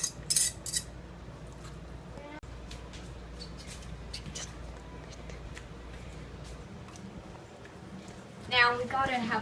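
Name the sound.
shredded meat being transferred into a bowl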